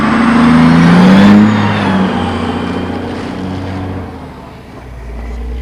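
A vehicle's engine roars and strains as it pulls away up a sanded, snow-covered hill, loud and close at first, then easing and fading somewhat as it climbs.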